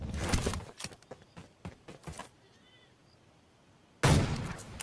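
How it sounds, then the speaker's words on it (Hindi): Gunfire in the mobile battle royale game PUBG Mobile, a burst of sharp rapid shots over the first two seconds, a near-silent gap, then another loud close volley near the end. "अब देखिए हमारे ऊपर फायरिंग शुरू हो चुकी है।"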